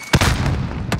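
A frag grenade goes off in Warzone on Rebirth Island, one sharp, loud blast followed by a sustained rumbling tail, then a second sharp crack near the end.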